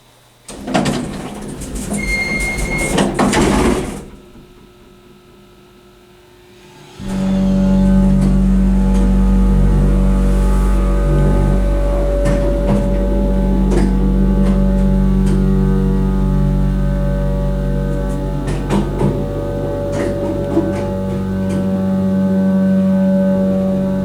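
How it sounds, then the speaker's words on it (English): An old San Jose apartment elevator's motor runs after a brief clattering start and a short quiet gap, then a loud, steady close-up hum with a deep drone that continues to the end. "listen to this motor."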